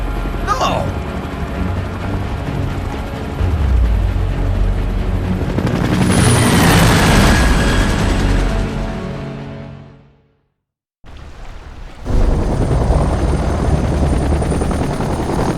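A helicopter flies in the Gears of War Judgment video game, its rotor roar swelling loud and close, cutting out abruptly to near silence for about a second, then returning with the game's steady background sound.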